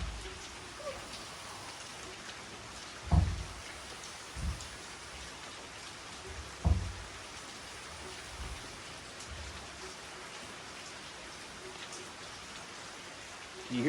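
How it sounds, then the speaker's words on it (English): Steady rain falls outside a dry workshop where wood shelves are being stained, a constant soft wash of drops with a few dull low thumps, moderately distant and without speech. "Do you hear that rain?"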